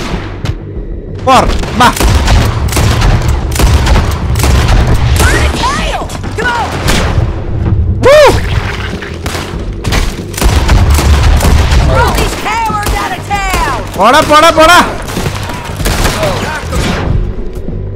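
Rapid gunfire in the video game Red Dead Redemption 2: repeated sharp shots and heavier booms run through the whole stretch, with someone talking excitedly over the shooting.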